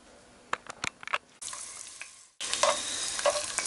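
Garlic fries in olive oil in a pan for bolognese-free bottarga pasta, hissing and sizzling close up. Short stirring clatters come first, and the sizzle swells louder after a brief dip.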